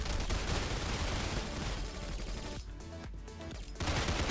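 Shotgun fire in the video game Weird Gun Game, from a one-shot weapon dealing 600 damage: a steady run of loud, dense blasts that fills the clip and thins briefly in the middle before resuming at full strength.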